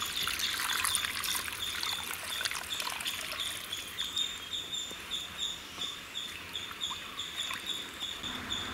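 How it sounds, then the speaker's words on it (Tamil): Water trickles and pours steadily into a pot of cauliflower curry gravy, a continuous splashing dribble that softens slightly toward the end, with no voices. "இந்த டைமில் கிரேவிக்கு தேவையான அளவு தண்ணி ஊற்றிடலாம்"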